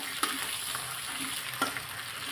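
Onion frying with crushed chilli and garlic paste while being stirred in a pan, a continuous close sizzle with a couple of sharp spoon scrapes against the pan.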